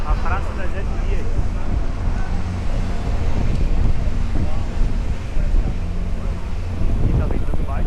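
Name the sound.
strong wind blowing outdoors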